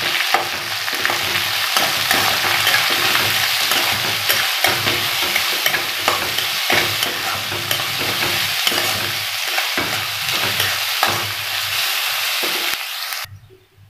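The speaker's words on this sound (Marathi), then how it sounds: "कांदा चांगला परतून घेतला" Onion and green chili sauté in a pan, a loud continuous sizzle close by with repeated scraping stirs throughout, before the sound drops away abruptly at the end.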